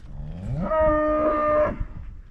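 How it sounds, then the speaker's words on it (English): A cow out in a pasture with goats and hay bellows once in a long, loud, drawn-out moo, close by and alone with no talking. "What are you bellowing about?"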